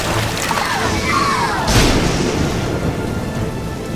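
Steady heavy rain hisses throughout while a thunderclap rumbles and crashes in the middle, loud and close.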